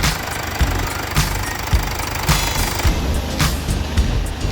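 A white 2018 Mercedes-Benz GLC 220d 4MATIC Coupe diesel engine idles steadily with the hood open, a continuous low rumble with faint periodic knocking clatter throughout.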